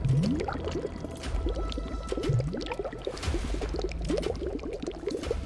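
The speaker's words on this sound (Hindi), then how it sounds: "ये शायद पानी बहने की आवाज थी।" Water runs and gurgles somewhere below in a dark cave at Patalkot, a continuous bubbling, splashing flow with irregular liquid pops and drips, fairly close and steady.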